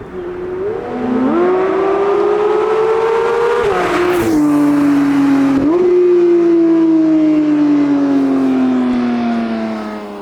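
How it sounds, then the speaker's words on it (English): Loud, close exhaust drone from a Porsche 992 GT3 driving around 3,000 rpm holds steady for several seconds, with a few gear changes briefly shifting its pitch. "It sounds beautiful even in 3K RPMs."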